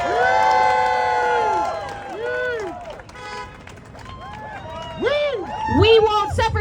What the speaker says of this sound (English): Can we get another applause for him?